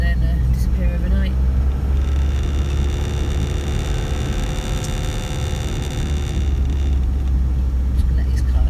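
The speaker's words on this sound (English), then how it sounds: "Just going to let these cars pass" Cars passing on a road on the way into the Lake District, a loud close whoosh that swells and fades over several seconds while someone talks nearby.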